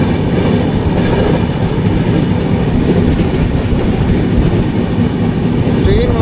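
A passenger train runs steadily on rails through North Bengal, giving a continuous loud rumble with faint rhythmic clatter from the wheels and no pauses throughout.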